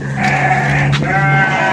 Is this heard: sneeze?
no